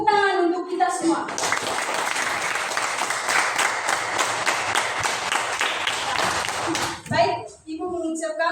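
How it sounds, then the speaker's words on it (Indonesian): A classroom of students bursts into loud, brisk clapping lasting several seconds, framed by a teacher's voice talking before and after the applause. "tepuk tangan untuk kita semua"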